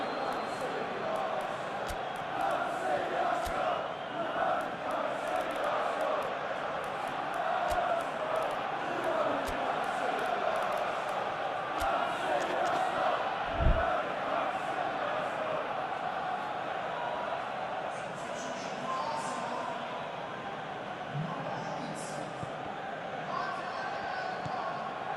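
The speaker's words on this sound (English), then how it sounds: "it's good to see that the crowd appreciate his efforts" A stadium crowd in the football video game PES 2021 murmurs and swells steadily beneath an ongoing match commentary voice, with a brief thud and a few rising cheers toward the end.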